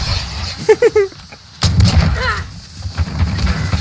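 Gunfire in the video game Warzone, heard as a few loud booming shots that cut into other game sounds and a voice, followed by a denser burst of noisy blasts.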